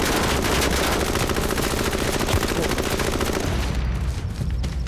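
Sustained, rapid machine-gun fire from the video game H1Z1 on PS4 rattles loud and continuous, barely easing toward the end, with no clear speech.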